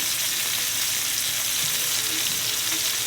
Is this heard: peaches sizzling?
yes